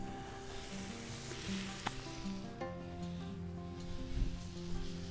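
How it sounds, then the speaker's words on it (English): Vegan plant-based sausages sizzle steadily in a hot pot, a continuous crackling hiss with a few soft knocks as they go in, moderately loud and close with no talk. "Now I will transfer sausages into the pot,"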